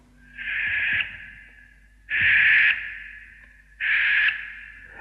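Three drawn-out, raspy hissing screeches from a grass owl, each lasting about a second, separated by short pauses, fairly close and clear against a quiet background.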